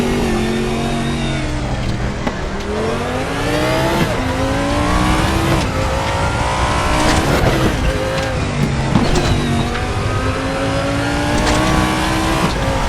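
Audi LMS race car in the RaceRoom racing game, engine loud and continuous as it accelerates and shifts through gears over uneven surfaces, with repeated rising revs and tire noise.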